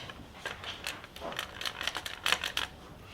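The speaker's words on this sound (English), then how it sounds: "For the removal of the stock from the action on this particular model, and the bolt, the handle undoes." Undoing the stock bolt on a Beretta 682 Gold E shotgun with a handled tool produces a quick series of light, close metallic clicks and ratcheting ticks, quiet and irregular.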